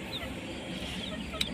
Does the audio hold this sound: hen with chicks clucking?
yes